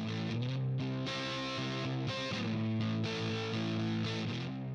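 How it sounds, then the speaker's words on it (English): Electric guitar run through a Pro Tools amp simulator with low preamp drive and the power amp pushed into overdrive, giving a thick, compressed distorted tone with sustained chords and some note changes, steady and loud with no talking. "if you keep the preamp distortion low and push the power amp distortion, you'll get this kind of overload characteristic."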